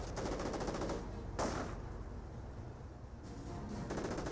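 Automatic MG42 machine-gun fire in a Company of Heroes battle, dense continuous bursts with a brief louder crack, sustained and fairly loud without speech.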